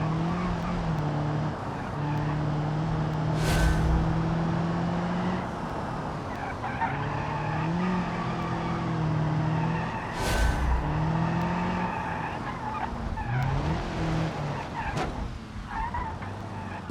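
A car is held at full throttle in the BeamNG driving game. Its engine drones loud and steady with rising and falling tones, two sharp squeals break through, and a voice talks faintly now and then.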